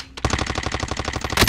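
Automatic weapon fire in Call of Duty: Modern Warfare, one close, loud burst of rapid, evenly spaced shots lasting just over a second, with no voices.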